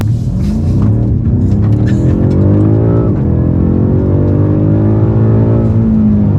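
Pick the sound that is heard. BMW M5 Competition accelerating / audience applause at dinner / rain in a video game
BMW M5 Competition accelerating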